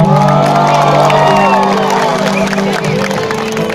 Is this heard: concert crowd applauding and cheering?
yes